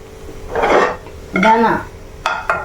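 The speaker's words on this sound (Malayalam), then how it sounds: "പാത്രം നമുക്ക് മാറ്റാം" A cooking pot being swapped on a home kitchen stove, with metal pans clattering in two loud bursts and a couple of sharp clinks near the end, alone without talk.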